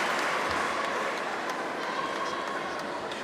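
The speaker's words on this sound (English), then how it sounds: "this Serbian crowd showing its appreciation" A Serbian home crowd applauds at a women's European basketball championship game between Belarus and Serbia, a steady, dense wash of clapping and cheering filling the arena throughout.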